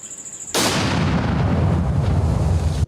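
Five hand grenades set off in a controlled detonation by police special task force officers: one sudden, loud, close blast with a long rumbling roar that fills the rest of the clip, with no voices.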